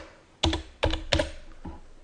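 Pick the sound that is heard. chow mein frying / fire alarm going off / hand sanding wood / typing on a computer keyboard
typing on a computer keyboard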